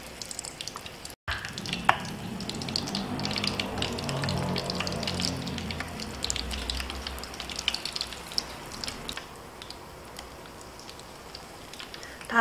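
Battered shrimp deep-frying in hot oil for French fried shrimp give a steady, dense crackling sizzle that runs throughout at moderate level, with no voices over it.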